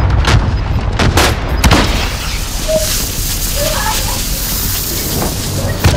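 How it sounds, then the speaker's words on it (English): Heavy booming explosions from a bombing run in Call of Duty Warzone, several loud thumps early then a continuous rumbling roar, with faint voices in the din. "Incoming bombing run"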